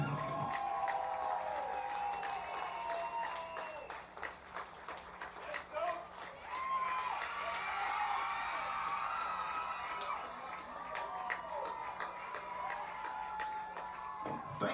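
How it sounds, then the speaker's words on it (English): A crowd at a women's lacrosse tournament gives scattered applause and a few cheers for the champions, fairly distant and light, over sustained announcer-style talking and a low hum. "Let's have a round of applause for the 2025 Sunshine State Women's Lacrosse Tournament champions"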